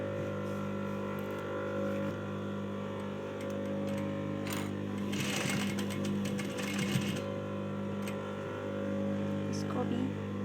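Sewing machine stitching a seam on a dress with gota work, a steady mechanical whir running close and continuous under a constant background hum, with no talking.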